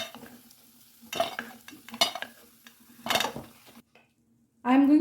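Green moong vadi dumplings sizzle softly in oil while a spoon scrapes and clinks against the pan in several short strokes, followed by a brief voice at the end.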